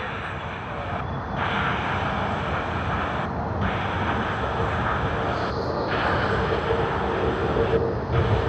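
Airbus A380-800 at Sydney Airport, a steady loud engine roar with broad jet rumble that holds and swells slightly over several seconds, heard alone without talk.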